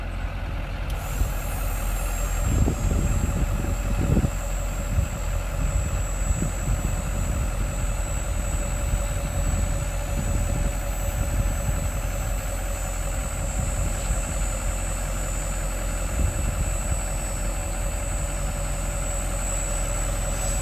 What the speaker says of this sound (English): Let's see you raise this truck bed.